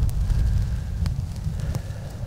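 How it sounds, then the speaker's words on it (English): A freezing northerly wind gusting around 35 buffets a golf course, giving a continuous loud low roar of wind noise against the microphone with a few sharp crackles and no voices. "just a freezing cold northerly wind. Gusting at like 35 now."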